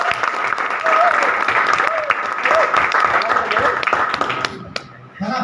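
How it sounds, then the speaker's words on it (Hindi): An audience claps loudly and continuously for several seconds, the applause dense and close and fading away near the end, with voices faintly under it. "बिल्कुल से ताली होनी चाहिए सबकी।"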